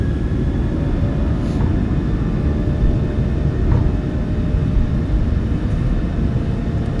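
The engines of a PMDG 737-700 in a flight simulator run at takeoff power, giving a loud, steady, broadband roar and rumble for the whole stretch, with no one speaking.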